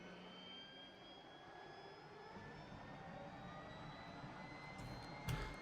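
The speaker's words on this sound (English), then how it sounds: "Not this one, that's just the APU" An airliner's auxiliary power unit runs in the X-Plane 11 flight simulator, a steady whining jet drone with faint high tones, continuous and unchanging, with a brief click near the end.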